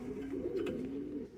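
Pigeons at a pigeon show give a soft, continuous low cooing that stays steady and close through the short stretch, with no talk over it.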